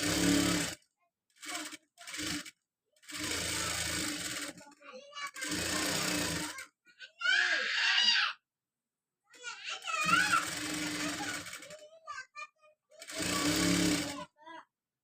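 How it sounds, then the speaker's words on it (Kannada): Sewing machine stitching fully around the neck of a blouse, running in several loud mechanical bursts of a few seconds each, separated by short pauses, with a voice speaking in between. "ಇನ್ನು ಫುಲ್ ರೌಂಡ್ ಸ್ಟಿಚಿಂಗ್ ಮಾಡ್ಕೊಳ್ಳೋಣ."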